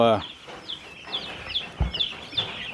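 Soft clucking and peeping from small chicks, several short chirps scattered across the clip, fairly close, with a brief low thump partway through.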